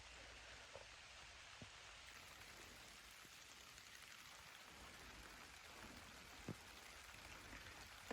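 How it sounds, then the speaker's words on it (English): Constant drizzle falling outdoors as the weather closes in, a faint, even hiss of light rain with occasional soft drop ticks and no voices. "It's starting to close in and it's a pretty constant drizzle."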